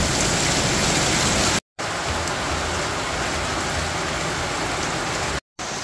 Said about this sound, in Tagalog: Grabe ulan di